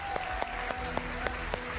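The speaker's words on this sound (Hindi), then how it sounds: "तालियों के साथ आप सभी का बहुत बहुत स्वागत है।" Brisk applause from a studio audience on a Hindi TV debate show greeting the guests, dense and steady with sharp claps, a voice briefly audible under it.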